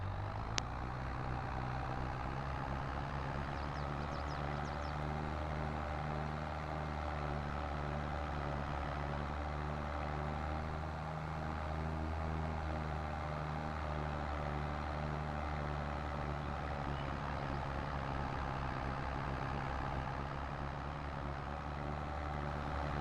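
An Allis Chalmers harvester in Farming Simulator 22 runs with a steady, deep diesel drone and a slight shift in pitch partway through, alone with no talk.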